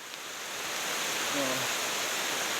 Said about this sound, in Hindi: पानी भी पक्का चालू ही गया है एक नंबर